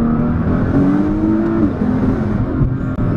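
1800 hp Nissan GT-R accelerating hard, a loud continuous engine roar with a rising then falling pitch heard from inside the car; no distinct backfire pops stand out.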